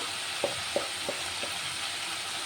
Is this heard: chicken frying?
yes